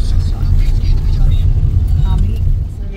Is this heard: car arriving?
yes